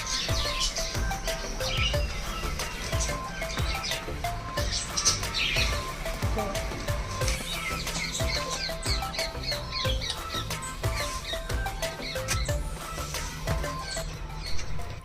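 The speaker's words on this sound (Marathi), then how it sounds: "पक्ष्यांचा किळविळाट मस्त आवाज येत असतो" Small birds chirp outdoors on a morning with soft early sunlight, a busy chorus of quick overlapping tweets and calls at a moderate distance that continues steadily throughout without speech.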